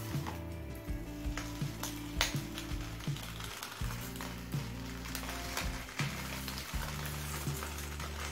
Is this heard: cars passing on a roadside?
no